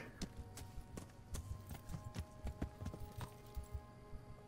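Horse hooves clip-clop at a steady galloping rhythm in the video game Kingdom Come Deliverance, a continuous run of moderately loud, evenly spaced thuds with no talking.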